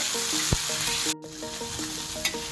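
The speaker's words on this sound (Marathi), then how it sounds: "हे आपण असे तव्यावर छान असे परतून घेऊया" Fresh green pigeon peas sauté in oil on a griddle, a loud steady sizzle with a few sharp spatula knocks and scrapes, briefly interrupted by a momentary dip before frying noise returns.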